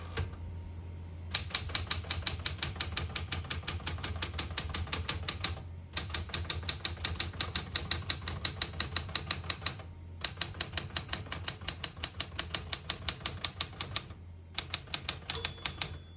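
Rapid, steady clacking of a 1968 Smith-Corona Super Sterling manual portable typewriter, single-spaced, keystrokes in quick bursts separated by brief pauses, close and clear with no voices.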